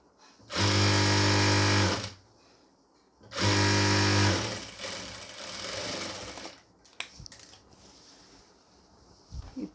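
A sewing machine stitches a pleated nightie in two loud, steady runs of about one and a half seconds each, separated by a pause, followed by quieter handling noises.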